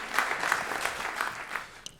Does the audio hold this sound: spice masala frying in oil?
no